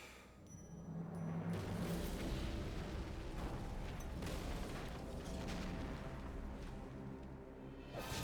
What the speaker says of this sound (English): With explosions for emphasis.